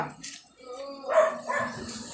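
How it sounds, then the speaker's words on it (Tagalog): A guard dog at a home in Batangas barks a few times at moderate distance, the short yips and woofs mixed with people talking nearby. "Ito naman yung aso nila na bantay."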